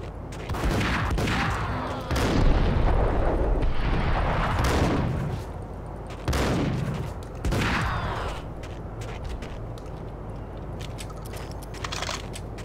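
Shotgun blasts boom in a gunfight in the video game Max Payne, several loud heavy shots with rumbling tails spaced a second or two apart, then fainter scattered bangs.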